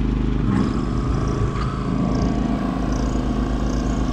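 An air compressor starts up and runs with a steady, loud motor drone and low rumble, joined by faint clatter, while a steamer and degreaser are being readied for cleaning car door jambs.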